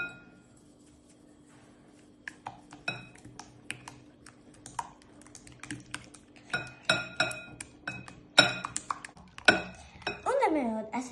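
Whisking pancake batter with sugar and salt in a bowl, with rapid irregular clinks and scrapes of utensil against the bowl that grow busier and louder toward the end, near and clear over a low steady hum.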